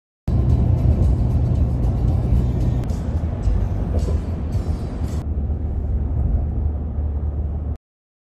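A 1987 Honda Integra drives slowly around a parking lot at an autocross day, its engine note and road noise steady and close, easing slightly midway before cutting off abruptly.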